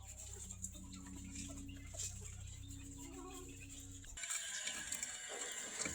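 Chickens being fed paddy in the morning cluck softly and intermittently at close range, with a low background hum and a rustling shuffle toward the end.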